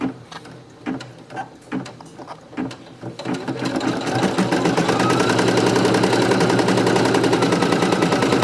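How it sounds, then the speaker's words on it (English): A Brother PE800 embroidery machine stitching a placement line on minky fabric: a few handling clicks and thumps first, then the machine starts up into a loud, steady, fast mechanical rattle that carries on to the end. "I'm gonna go ahead and stitch out the placement stitch onto my minky fabric"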